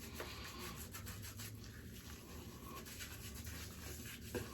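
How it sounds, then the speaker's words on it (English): Beard oil with a lemony citrus scent being rubbed into whiskers by hand, a soft continuous scratchy rubbing close to the ear, faint and steady for several seconds with no talking. "I just like to rub it into my whiskers"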